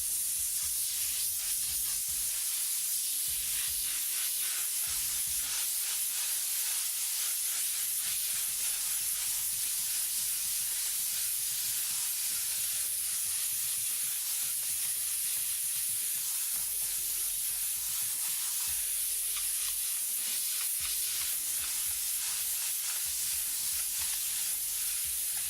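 An airbrush sprays red oxide paint in a big pass around the outside edge of a flame design, producing a steady, close, unbroken hiss of air and paint that runs without pause, alone with no talk.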